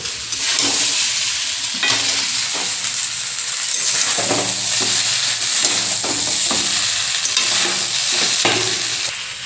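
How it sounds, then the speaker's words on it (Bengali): Fried chicken pieces being stirred into spiced rice in a pot for coriander chicken pulao, with a steady sizzle and repeated scraping stir strokes close up, no talking. "এইবার এই ভাজা চিকেনগুলো এই মশলা চালের মধ্যে দেব"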